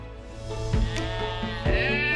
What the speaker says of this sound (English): tagging sheep on a farm just south of Wagga, New South Wales